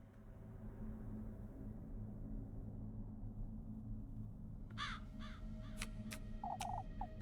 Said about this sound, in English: That crow, it's gone.